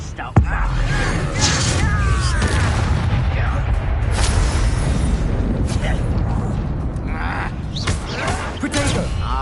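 Blasting impacts of the Confringo spell in the video game Hogwarts Legacy, a sharp boom followed by rumbling bursts and crackling combat noise, loud and continuous, with a voice shouting incantations.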